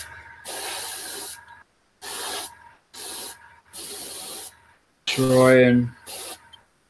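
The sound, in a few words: airbrush blowing air over a painted miniature's face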